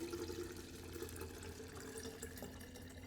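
Cold filtered water pours steadily into a tea pitcher from a refrigerator jug, a continuous splashing stream that stays fairly even and quiet throughout.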